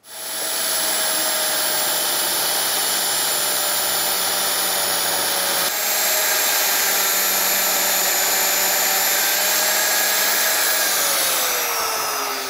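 A power cutting tool whines continuously through a steel linear guide rail, loud and steady with a high-pitched grinding tone, easing off and shifting pitch near the end.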